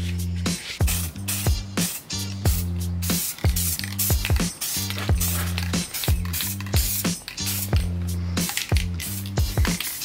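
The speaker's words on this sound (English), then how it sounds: "You gotta spray both surfaces." Spray adhesive goes onto both the pillar trim and the back of suede fabric for an Infiniti Q50 interior. It comes as a rapid series of sharp, loud, close hissing bursts in an uneven rhythm.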